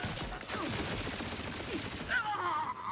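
A gun fires in the sci-fi video game The Outer Worlds 2, a quick burst of shots with mechanical clatter, loud and close, with a brief electronic whine near the end.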